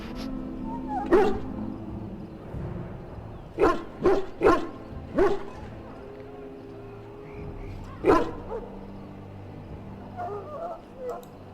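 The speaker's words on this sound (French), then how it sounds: "Ce chien est un Mabari. C'est une race forte et intelligente." A Mabari war dog in the Dragon Age Origins game barks in a quick series of sharp, fairly close barks with some whimpering, set against low game ambience and occasional quieter sounds.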